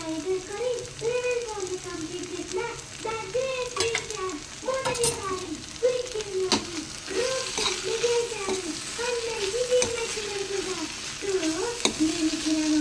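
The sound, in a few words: stirring and frying beans tomato curry with ginger garlic paste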